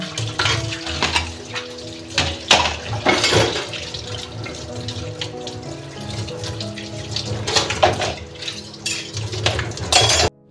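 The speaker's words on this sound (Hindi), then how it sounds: "मैं लग गई थी यहाँ पे किचन की पूरी क्लीनिंग करके बर्तनों की सफाई करने के लिए" Dishes are washed at a kitchen sink: running tap water splashes continuously while pots, plates and cutlery clink and clatter in irregular bursts, close by, with no talking.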